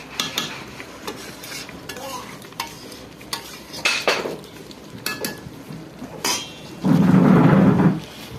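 Chicken pieces coated in spices being stirred in a pot on the stove, with intermittent scraping and clinking of a utensil against the pan, then a louder, steady sizzle near the end.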